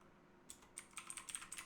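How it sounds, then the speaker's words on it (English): Quiet typing on a computer keyboard, a quick irregular run of light clicks that starts after a brief hush and clusters densely toward the end. "I'm just gonna type first"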